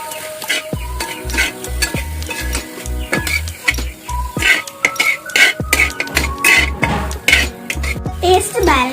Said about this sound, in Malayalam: ഇനി നമുക്ക് നന്നായിട്ട് ഇളക്കി കൊടുക്കാം.